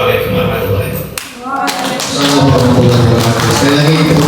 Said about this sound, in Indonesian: Sekali lagi tepuk tangan yang kedua untuk beliau berdua